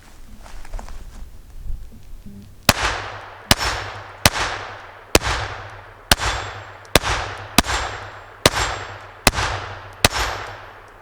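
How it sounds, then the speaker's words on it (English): A Taurus TX22 pistol firing Armscor .22 ammunition: ten sharp shots in a steady rhythm about a second apart, each crack loud and close with a short ringing decay, after a couple of seconds of quiet handling noise. "now we got the Taurus Tx22 using the same arms core ammunition in there, so let's give that"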